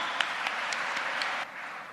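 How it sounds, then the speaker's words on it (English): A school audience claps for students who earned excellent results, a steady wash of many hands that holds loud, then drops to a softer level near the end, with no talk over it. "a round of applause for all the students who got excellent results in this AJ"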